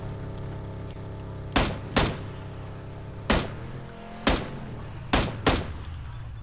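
Gunshots ring out in PUBG during a vehicle chase, six sharp single cracks spaced about a second apart over a steady engine drone.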